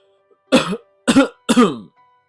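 Three harsh, congested coughs in quick succession, loud and close, with short pauses between them.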